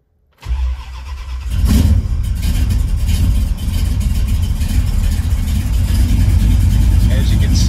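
A 1966 Plymouth Belvedere engine cranks and fires up, then settles into a loud, rough, rumbling run with a throaty low-end roar, close up and continuous.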